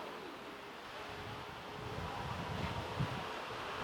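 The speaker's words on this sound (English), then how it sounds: "it is quite windy and it is quite noisy where I am" Steady outdoor wind rumbles and buffets a microphone in a low, continuous roar that swells slightly toward the end, with no voices.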